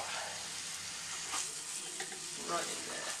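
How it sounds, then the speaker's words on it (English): Pork burger patties and chorizo sizzling in a pan, a steady crackling fry with occasional stirring scrapes, close and constant throughout, no talk. "I'm just gonna sizzle that one."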